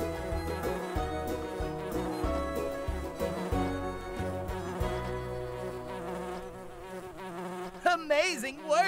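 A cartoon bee buzzes in the Nature Cat pollinator game, a droning insect hum layered over bright game music, with a voice briefly chiming in near the end.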